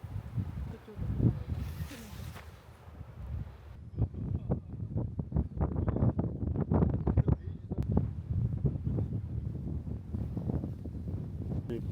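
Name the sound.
strong wind blowing, wind noise on microphone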